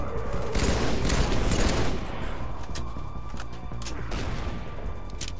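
Sustained automatic gunfire in Halo 3, a dense rattling volley that is loudest in the first two seconds and then continues steadily with sharp individual shot transients, with no one speaking.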